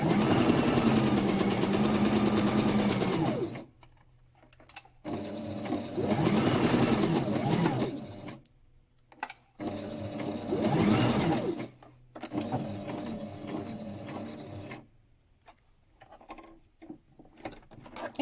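A domestic sewing machine stitches thick fabric for a wipes pouch in bursts of steady rapid mechanical whirring, three or four runs separated by short pauses, close and fairly loud.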